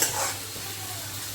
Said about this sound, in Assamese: এইখিনি এতিয়া মই আৰু 1 মিনিটমানৰ কাৰণে অকণমান ভাজি ল'ম